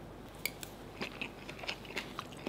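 Someone bites and chews a mouthful of braised five-spice pork over rice with chili-fish-sauce-lime dressing, with close, moist crunchy chewing clicks spaced irregularly and no speech.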